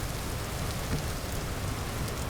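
Steady rain pours down in the video game Vintage Story, a dense, continuous hiss with low rumbling patter, loud and unbroken throughout with no voices over it.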